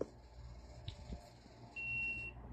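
A small handheld electronic detector gadget gives a single clear, high-pitched beep lasting about half a second in a quiet room, following a few soft handling knocks.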